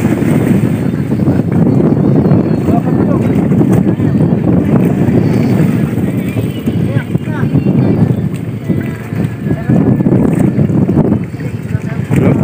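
A boat's engine drones out at sea with heavy wind buffeting the microphone, loud and continuous throughout.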